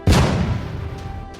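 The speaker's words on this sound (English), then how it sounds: "All cannons. Direct fire." A single deep cannon blast as a sound effect, a sharp loud boom that quickly decays into a rumbling tail, heard alone.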